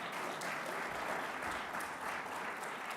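A crowd applauds at a governor's press event on public safety, a continuous, even roar of many hands clapping that stays fairly distant and soft from start to finish.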